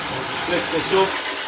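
A food processor whirs briefly while blending sweet potato pizza topping ingredients, a dense whining buzz that swells slightly, with a voice speaking underneath.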